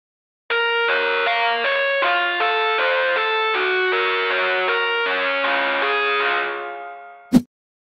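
Synth chords in FL Studio with a small reverb, steady sustained stepped chord changes for about seven seconds, then fading, followed by one sharp low hit at the end.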